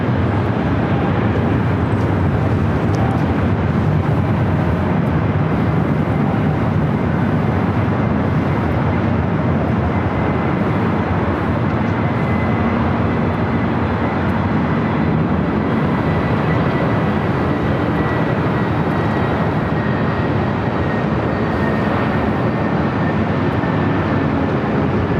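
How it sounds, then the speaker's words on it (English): An American Airlines Airbus A321neo arriving at LAX, heard as a steady, loud broadband roar of jet engine and airflow that holds for the whole stretch with no voices. "Next arrival coming in from Reagan National, American Airlines Flight 1986. It's an A321neo"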